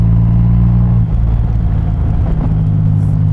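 Triumph Rocket 3 motorcycle cruising in top gear at about 2000 rpm near 60 mph, a steady loud low engine drone with constant rumble and road noise, unchanging throughout and free of speech.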